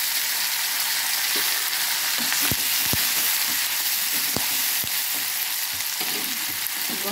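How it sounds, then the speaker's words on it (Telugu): Garlic, dry chillies and curry leaves crackle in hot oil in a pan as tempering for gongura dal, a constant loud sizzle broken by a handful of sharp, distinct pops. "ఈ కొద్దిగా వేగిన తర్వాత వెల్లుల్లి వేస్తాను. ఈ చిటపటమంటున్నాయి ఫ్రెండ్స్."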